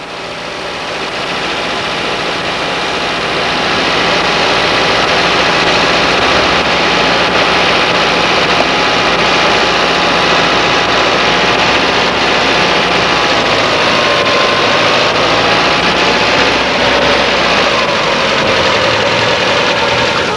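A car engine idles steadily during carburetor idle adjustment on a 2E7/3E carburetor, a loud continuous hum whose pitch shifts subtly as the speed is set, with no voices.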